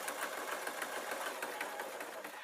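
A sewing machine stitches fleece steadily at high speed, a fast rhythmic mechanical whirr and clatter heard close up with no voices.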